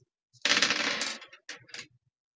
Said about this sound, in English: He will roll his dice.